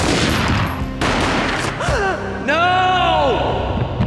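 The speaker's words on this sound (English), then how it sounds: "A gunshot boomed and she fell down in slow motion." A booming gunshot in the Max Payne game is followed by slowed, stretched echoing tones and a drawn-out warped groan, loud and dense.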